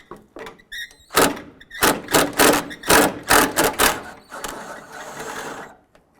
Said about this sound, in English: I'll go ahead and remove this nut